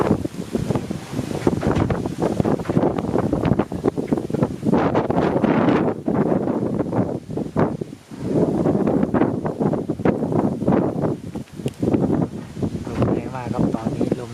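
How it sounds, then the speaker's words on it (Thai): Strong gusting wind of a summer storm in northeast Thailand buffets the microphone in loud, continuous roaring bursts with a brief lull midway, while a voice speaks over it. "ตอนนี้ลมแรงมาก"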